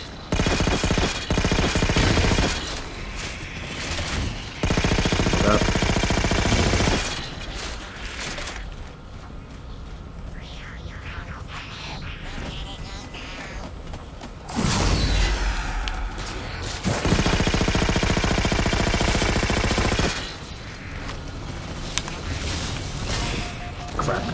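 A weapon fires repeatedly in the Halo 4 campaign, loud sustained bursts of automatic shooting broken by short gaps, with mechanical clanks and a voice speaking over the action.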